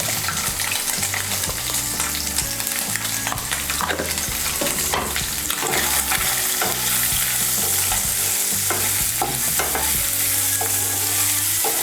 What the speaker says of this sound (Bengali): নুন আর হলুদটা মিশিয়ে নিয়ে সোয়াবিনগুলোকে আমি ভালো করে ভেজে নেব।